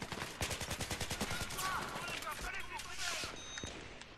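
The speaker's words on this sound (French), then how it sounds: "Je me fais tirer." Rapid automatic gunfire from Battlefield 3 rattles in dense, steady bursts of many close shots, loud throughout, with faint talk underneath.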